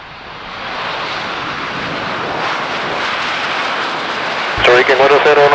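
An airliner landing at La Aurora airport in Guatemala City, heard as a steady, loud engine roar and rushing noise that holds for several seconds, with a short burst of radio chatter near the end.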